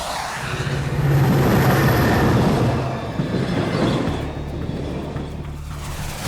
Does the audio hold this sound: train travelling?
yes